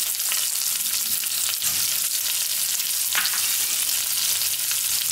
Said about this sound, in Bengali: এবার আমি দিয়ে দিচ্ছি কেটে রাখা পেঁয়াজটা